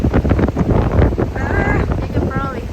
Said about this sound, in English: You can probably hear the wind.